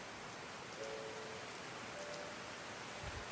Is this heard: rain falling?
yes